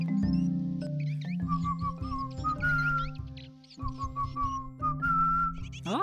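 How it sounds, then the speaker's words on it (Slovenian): A person whistles a lilting melody of sliding, warbling notes over a sustained low accompaniment, clear and close, with no talking. "To melodijo sem zažvižgala."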